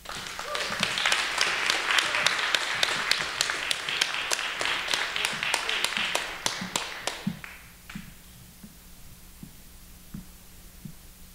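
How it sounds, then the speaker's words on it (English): An audience at an evening event applauds and snaps together. Dense clapping fills several seconds, then thins into scattered snaps and claps before fading to quiet. "Please give a round of applause or a round of snaps and claps for Miss Stacy Peretz."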